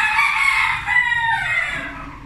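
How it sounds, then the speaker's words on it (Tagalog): A rooster crows once, a long drawn-out call that rises and falls, fairly close and loud. "Salamat sa manok."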